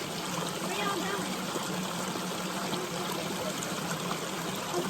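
Water flows and trickles steadily in a stream at a waterfall, a constant soft rushing, with voices speaking over it.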